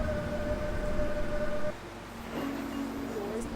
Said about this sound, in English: Doors opening.